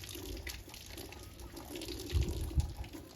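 Water flows steadily from a water tank, making a continuous rushing splash with a few louder gurgles near the end, heard alone without speech.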